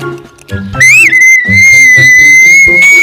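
A police whistle is blown in a children's cops-and-robbers play scene. One long, loud, shrill blast sounds at close range and slides in pitch at first, over a noisy background.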